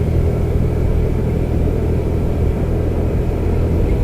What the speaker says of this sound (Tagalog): Wala pang tigil yung motor natin simula kanina eh.